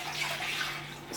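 Milk poured from a pot into a storage container while making homemade yoghurt, a steady continuous liquid stream heard close up without talk.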